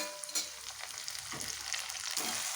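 Sliced tomatoes fry with cooked onions in a pan for vangibath gojju, producing a continuous soft sizzle with a few stirring scrapes, quiet and without talk.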